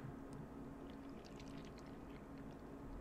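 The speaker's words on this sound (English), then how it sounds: "moving water around in the bottle" Water sloshed around inside a bottle for ASMR, heard as faint, soft intermittent liquid swishes and trickles over a steady low hum, close and quiet with no talking.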